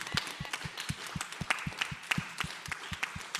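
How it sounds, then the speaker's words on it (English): A room full of people applauding at a panel discussion event, brisk and steady clapping with many hands throughout, heard from a moderate distance. "Y'all gonna let the next room clap louder than y'all?"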